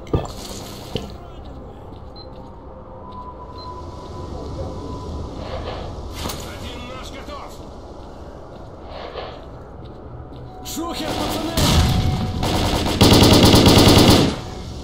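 Gunfire in STALKER Call of Pripyat: a few scattered shots early on, then loud, dense bursts of automatic fire near the end, with game voices and ambient noise in between.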